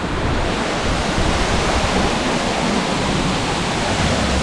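Rincón Waterfall in Trinidad and Tobago, the country's second highest, pours down as a loud, dense, unbroken roar of falling water, steady and close for the whole stretch with no voices.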